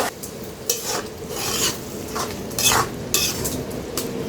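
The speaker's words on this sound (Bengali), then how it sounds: "এই যে আগের থেকে সিদ্ধ করে রাখছিলাম ডালগুলো এই তো এখন একটু নেড়ে তেল নিব দিব" Boiled moong dal being stirred in a pot, with close scraping and clinking of a utensil against metal in irregular bursts over a steady low cooking hiss.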